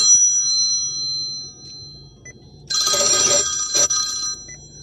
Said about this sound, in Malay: kuat bunyi telefon terkejut